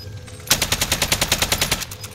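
A PPSh submachine gun rattles off a rapid, evenly spaced burst of roughly sixteen close, loud shots in a video game, with a faint tail after the burst ends.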